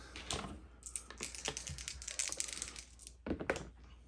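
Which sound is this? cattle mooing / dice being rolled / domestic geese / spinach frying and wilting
dice being rolled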